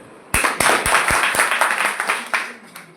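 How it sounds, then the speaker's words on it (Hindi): A small audience clapping for someone speaker, a handful of sharp, close claps in quick succession that thin out and fade over a few seconds. "मैम के लिए तालियां हो।"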